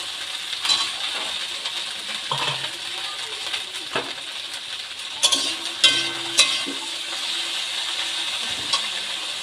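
Tomatoes go into a pan of frying okra masala cooked Bengali style with mustard, giving a quiet, steady sizzle with a few soft clinks and stirring knocks over it.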